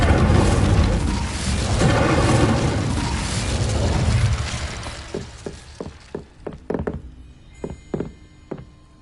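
An Incendio fire spell cast in Hogwarts Legacy, with a loud, dense fiery whoosh that slowly dies away, followed by a run of sharp, evenly spaced thuds and taps.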